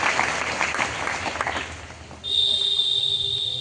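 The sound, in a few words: students clapping to welcome a guest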